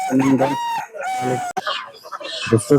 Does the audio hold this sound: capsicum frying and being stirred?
no